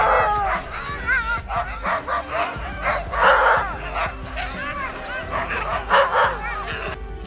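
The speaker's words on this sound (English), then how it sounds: "Arctic dogs weren't just furry pets that could keep the Inuit families warm in the igloo and pull the sled" Arctic Inuit sled dogs bark and yip repeatedly, several animals close by in a lively overlapping chorus with whimpering cries mixed in, over a steady low background rumble.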